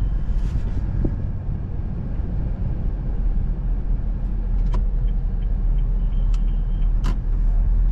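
Honda Brio car creeping along slowly in second gear through traffic at about 20 km/h, a steady low engine and road rumble with a few faint clicks, heard from inside the cabin.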